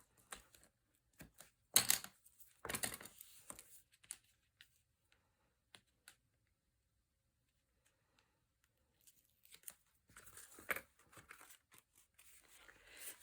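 Score tape is peeled and pressed onto a paper tag flap in a quiet room: sparse, faint crinkles and short tearing rasps in two brief bursts, separated by near silence.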